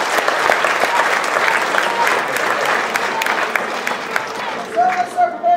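An audience at a university chemistry demonstration night applauds the Harry Potter-house-named demo teams, a dense sustained roar of clapping that thins near the end as a voice comes in.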